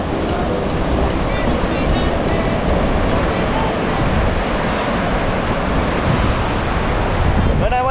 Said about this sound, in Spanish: Este mar hermoso.